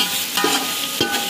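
Green chillies being stirred as they fry for beef pulao, with a steady sizzle under two short scraping stirs of a spoon in the pan; no voices.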